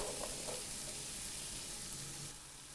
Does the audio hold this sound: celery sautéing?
yes